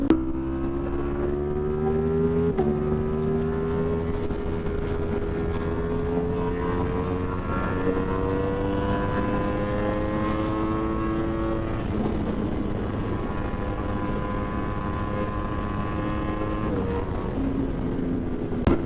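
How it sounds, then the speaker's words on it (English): A Ducati Streetfighter V4 sport motorcycle engine revs up through several gears, its pitch climbing and dropping with each shift, loud and close throughout. "The way this motorcycle pulls is insane."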